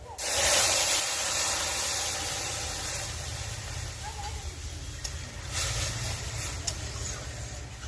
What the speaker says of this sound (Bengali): মাদার ডাই দুধ নিয়েছি সেটা আমি ঢেলে দেবো